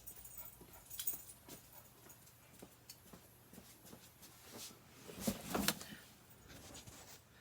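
An indoor dog whimpers and shuffles about a room, with scattered soft yelps, scratches and footfalls, a louder burst of movement near the end, and no talking.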